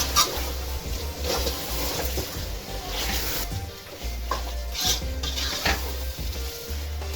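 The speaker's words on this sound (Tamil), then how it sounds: "அந்த சிக்கன் போட்டுடலாம் நல்லா கழுவி வச்சுக்கிறேன் போட்டு எல்லா மசாலாவோட எல்லாத்தையும் நல்லா பரட்டி விட்டுடலாம்" Chicken with masala sizzles and fries in a pot for biryani while a utensil stirs it steadily, with close scraping and frying noise throughout.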